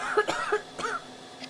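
A frail woman coughs softly a few times in quick succession, short muffled bursts close by, within an animated audiobook scene.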